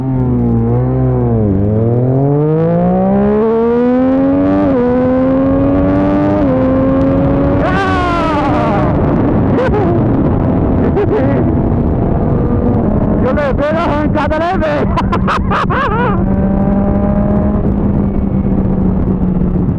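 A Honda CB300 motorcycle pulls away in second gear, its engine note climbing and revving loud and close for the whole stretch, with people talking over it.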